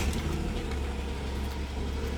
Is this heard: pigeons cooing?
no